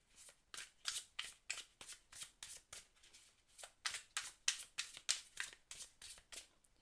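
Tarot cards from the Rosabelle deck being shuffled by hand, a steady run of crisp riffling bursts, close and fairly quiet, with no talk over them.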